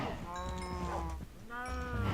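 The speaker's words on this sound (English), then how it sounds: "5 more baby cows" Baby cows in Minecraft, calling in a few short, tonal moos and bleats, one after another at close range with a brief pause between them.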